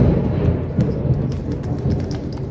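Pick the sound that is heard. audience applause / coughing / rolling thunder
rolling thunder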